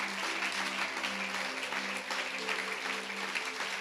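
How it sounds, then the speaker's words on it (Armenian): A church congregation claps loudly and steadily during a worship service, a dense, continuous wash of applause filling the room without any voices standing out. "Կրնակ բարձր Տիրոջը ծափարեք"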